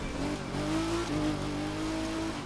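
A race car engine in The Crew 2 revs hard and steadily through the final lap, its pitch rising and falling as the car drives on. The sound is loud and close, with no talking over it.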